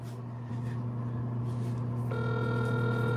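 A phone's outgoing ring tone while calling a grandmother, heard as a steady electronic tone that changes pitch partway through, with low background hum and no talking.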